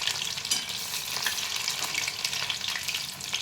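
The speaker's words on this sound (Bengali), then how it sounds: "পনিরগুলো আমি উল্টে দিচ্ছি একে একে" Paneer pieces fry in a pan, a steady close sizzle with a few light clinks and scrapes as the pieces are turned one by one, and no talking.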